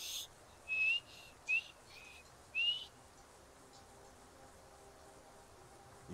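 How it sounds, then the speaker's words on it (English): Player character in the Skyrim video game whistling, set in the town of Ivarstead: three short bright whistled chirps in quick succession, moderately loud over a quiet ambient background, with no voices. "I'm gonna whistle at you"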